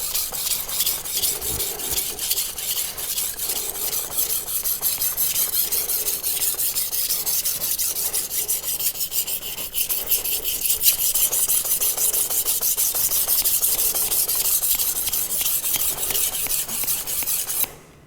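Kitchen knife sharpened on a 400 grit whetstone, a Kramer Zwilling or Nano Hone, with steady continuous rasping and scraping strokes, close and even, running for the whole stretch before stopping abruptly.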